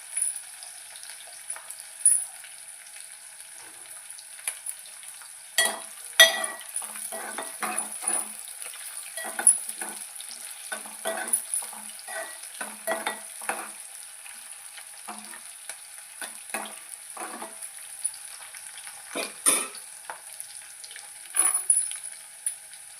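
Chopped green chillies fry in a pan with a constant soft sizzle, punctuated by frequent scraping and clinking taps of a spoon as they are stirred at close range.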